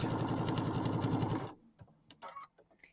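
A sewing machine stitches a bench pillow in a fast, rapid rhythmic chatter for about a second and a half, then stops abruptly, leaving faint fabric handling and small clicks.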